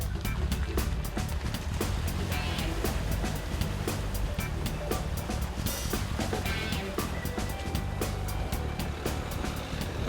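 Dacia Duster driving through deep standing water on a rutted track after heavy rain, with continuous loud splashing and sloshing over a steady engine drone.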